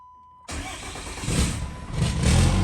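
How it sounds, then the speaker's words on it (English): A 2000HP Cummins diesel truck engine cranks and fires after a quiet stretch, then settles into a loud, rough idle that swells with revs, close by with no talk. "Started the truck"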